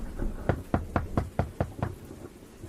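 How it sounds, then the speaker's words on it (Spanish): Knocking on a house door, a horror story sound effect: seven firm, evenly spaced thuds in a steady run, dull and resonant, heard alone over a low background hum. "escuchamos cómo tocaron a la puerta de la casa"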